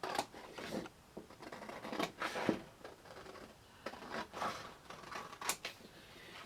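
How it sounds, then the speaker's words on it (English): Paper being cut with scissors while making a magnetic coin envelope: a close series of crisp, irregular snips and rustles, played alone with no talking. "Now I'm just going to cut that on this side of the line."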